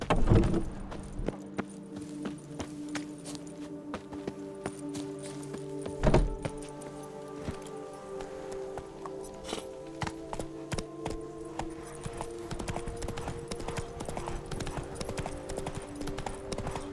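Roach the horse trots in The Witcher 3, hooves clip-clopping in a steady rhythm under a continuous music and ambient game bed, with one heavier thump early on.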